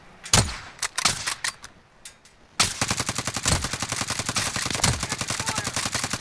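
Video game gunfire: a few sharp separate shots early on, a short lull, then sustained rapid automatic fire that stays loud and dense until the end, with no talk over it.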